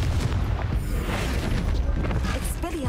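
A spell explodes in the video game Hogwarts Legacy as a loud, close, sustained rumbling boom with crackling effects, and a voice cuts in briefly near the end.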